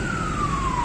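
An ambulance siren wails through a traffic jam near the Bhara Kahu flyover construction, a loud, continuous, slowly falling tone over heavy road rumble.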